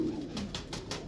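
A pigeon coos once nearby, a short soft throaty call against steady low background noise.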